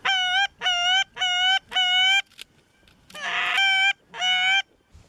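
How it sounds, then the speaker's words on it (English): A group of geese flying in during a goose hunt, a close loud run of five honking calls in quick rhythmic bursts, followed by a rougher burst and one final honk. "So we just got another group of geese flew in"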